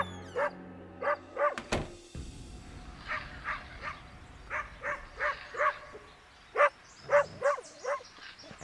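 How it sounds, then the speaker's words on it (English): A dog barks repeatedly outdoors, in a series of about a dozen sharp, evenly spaced yapping barks at moderate distance, with a brief clatter early on and no talk. "Whole lot of yapping going on over there."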